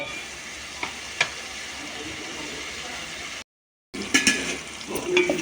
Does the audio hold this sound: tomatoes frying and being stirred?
yes